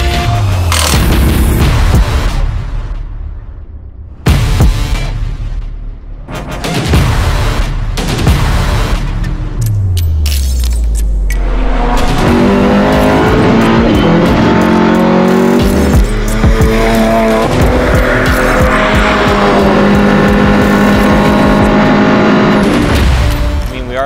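TCR touring race cars at Hockenheim, loud engines roaring close by with sharp revving bursts, gear changes and booming exhaust, continuous and intense throughout with no speech.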